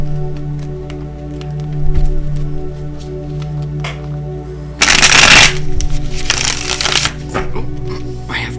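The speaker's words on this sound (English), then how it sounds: "I have cards flying over here" Tarot cards are shuffled close by: a dense burst of riffling flutter, followed by a second, looser run of card slaps and rustles, over a low steady hum.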